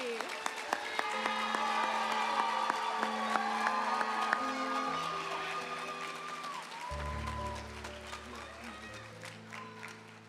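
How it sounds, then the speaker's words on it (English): An audience applauds and cheers during a Mr. and Miss Union royalty ceremony, with steady clapping and crowd noise under a sustained musical backing throughout. "can we give one final round of applause for your Mr. and Miss Union 2026 royalty?"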